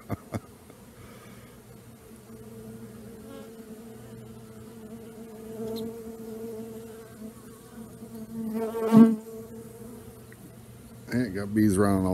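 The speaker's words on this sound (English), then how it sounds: "Do I have bees in my hair?" Honey bees buzz around the hive in a low, steady, fairly faint drone, with a few sharp clicks at the start and a louder swell of buzzing and rustling toward the end.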